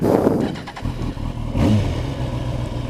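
A Kawasaki ZX10R motorcycle engine starts up again after a stall, catching into a steady, loud, close rumbling idle with a brief rise in revs midway; no one speaks.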